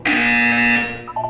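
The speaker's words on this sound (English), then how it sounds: "When you hear the buzzer, look down at the floor." A buzzer in the Portal 2 video game sounds as one loud, steady electronic tone lasting about a second, then fades into a softer warbling tail.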